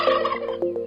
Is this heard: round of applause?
no